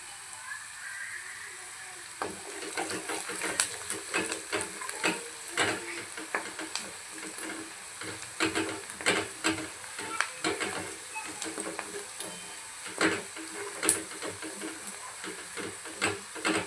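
Onions fry in a pan until golden for Kolhapuri misal, giving a steady close sizzle broken by repeated scraping stirs that come in irregular clusters.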